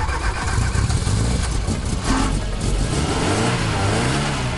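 A Peugeot 205 T16 with a 1.8-litre four-cylinder engine cranks, catches and revs hard, a loud close rough roar with rising and falling throttle blips and no talk.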